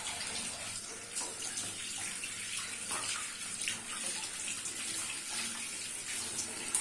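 Goat heads washed under a running kitchen tap, a steady close stream of water splashing with small shifts as the meat is handled, and no talking.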